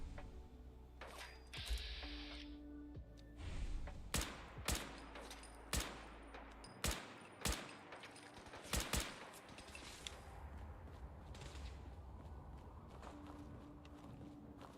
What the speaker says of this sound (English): that Primus is really tearing through me with that automatic plasma weapon